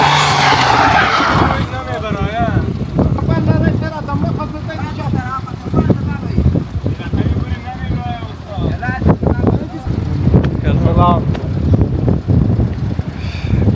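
Car stuck on a rough dirt road in Afghanistan, its engine revving and wheels skidding through a loud, continuous rumble with wind noise, while people talk over it throughout.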